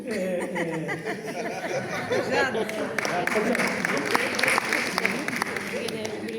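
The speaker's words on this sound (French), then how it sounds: "vous applaudissez le micro" Scattered audience clapping at an academic symposium, mixed with chuckles and murmuring chatter, while people talk over it nearby.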